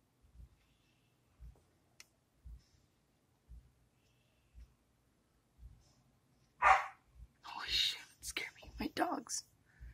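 Soft, muffled thumps repeat at intervals, then a dog barks several times in a burst toward the end, loud and close, with other barks overlapping.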